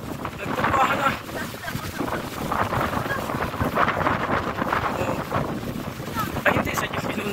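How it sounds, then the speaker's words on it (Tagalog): Strong wind buffets the microphone in steady, roaring gusts, knocking over garden plants, with a rumbling broadband rush throughout and faint Tagalog voices mixed underneath. "Sa sobrang lakas ng hangin"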